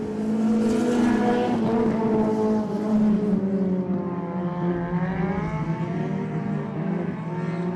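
Late model race cars at I-37 Speedway roar past in a pack, engine notes rising and falling as they race on the oval, close and loud with no voices over them.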